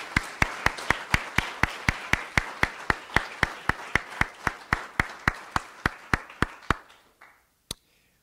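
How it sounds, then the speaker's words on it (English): At a summer student research symposium, sharp claps land in an even, steady rhythm for about seven seconds, then trail off, followed by one last isolated clap. "Let's now give one last big round of applause to all our student researchers."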